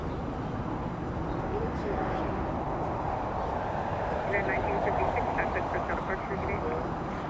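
Airliner at Los Angeles International Airport, a United flight bound for Las Vegas, its engines giving a steady, broad rumble that swells slightly midway, with talk running over it throughout.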